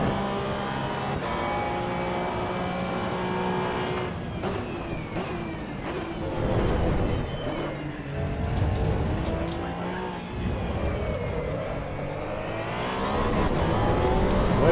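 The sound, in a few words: race car engine in the Assetto Corsa Evo video game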